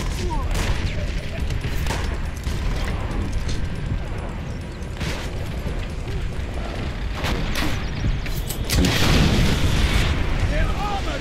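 In a Call of Duty: World at War battle, a dense, continuous roar of gunfire, panzerschreck rocket launches and explosions carries on with no let-up, building to a heavier blast near the end, while shouted voices are partly buried beneath.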